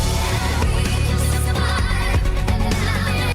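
Full-band rock music from the Solo Leveling anime opening, with drums hitting a slow half-time pulse, the snare landing on beat three of each bar under dense guitars and bass, loud and continuous.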